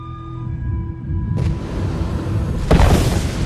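A deep rumbling boom builds over a low drone, followed by a sharp, louder blast near the end.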